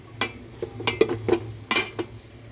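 A spoon scrapes and knocks against a pot while khichuri is stirred after a splash of mustard oil, giving several sharp metallic clinks at an uneven rhythm over a low, quiet simmer.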